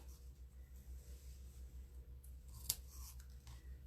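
Scissors trim through card paper while assembling a pocket card, a quiet steady rustle with one sharp snip near the end, close by and without talk.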